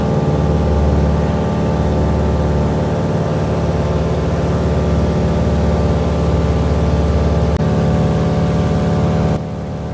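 A DHC-2 Beaver on amphibious floats climbs out with its radial engine at max continuous power, 30 inches and 2,000 RPM: a loud, steady, droning hum with strong low harmonics that never lets up, heard from inside the cabin without talk.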